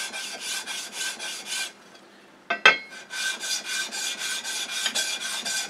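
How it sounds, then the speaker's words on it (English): A Stanley No. 5 hand plane's base is sanded with 120 grit sandpaper after japanning, heard as rhythmic close back-and-forth rasping strokes, broken by a short pause and a sharp knock before the strokes resume. "Now we're going to clean up the base and the sides using this 120 grit."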